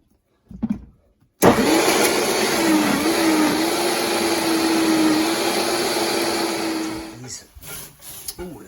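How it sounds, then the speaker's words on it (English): A Vitamix blender purees a hot tomato soup mixture with a loud, steady motor whine and churning roar that runs for several seconds, after brief handling noise, then cuts off. "put it in the Vitamix here, in food processor, and grind it all up"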